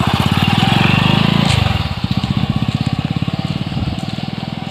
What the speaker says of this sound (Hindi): अब ये बाइक में जा रहा है मेरा पड़ोसी